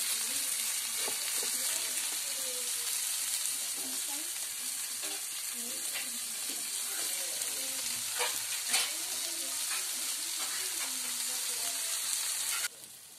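Prawns fry on a wood-fired chulha stove for a Malvani dish, a continuous loud sizzle with repeated scraping stir strokes and clinks of the spatula against the pan, then a sudden drop near the end.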